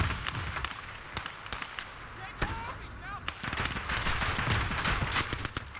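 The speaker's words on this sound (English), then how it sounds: "And then let's chuck grenades. Multiple grenades." Explosions and scattered gunfire ring out in the WWII game Call to Arms: Gates of Hell, with sharp cracks and bursts repeating at irregular intervals over a rumbling battle bed and intermittent speech.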